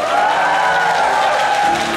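Steady applause from a crowd of families at a children's school performance, cast as a vote for the best-matched couple; the clapping stays even and unbroken from start to finish.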